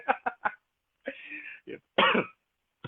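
Three quick, sharp coughs close to the mic, followed by a longer throaty burst and a couple more harsh coughs after short pauses.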